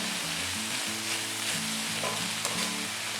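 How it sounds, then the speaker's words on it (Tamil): Tomatoes tip into a pan of frying onions for cabbage rice, setting off a steady close sizzle with faint stirring scrapes, continuous and fairly loud with no voices. "இந்த டைமில் நான் வந்து தக்காளி சேர்க்குறேன்."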